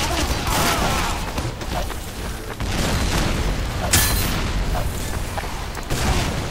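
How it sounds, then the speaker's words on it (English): Team Fortress 2 gunfire in a dense, noisy battle, with repeated booms and bursts of shots, several sharper blasts, and a voice talking now and then underneath. "He's shooting stuff."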